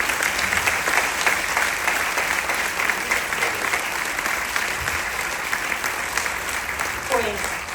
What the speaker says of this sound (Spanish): un aplauso fuerte para Chelo